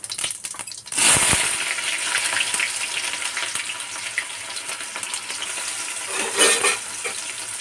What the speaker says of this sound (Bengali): পেঁয়াজ কটাকে লাল লাল করে ভেজে নেব